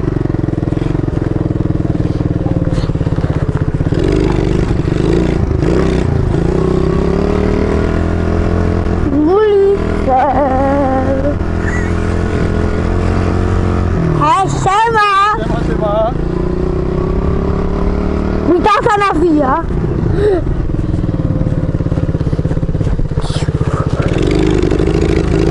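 An MRF 80cc pit bike engine drones steadily and close while riding, a continuous mid-pitched buzz with a few rev swells and clattering bursts, as a young rider talks over it.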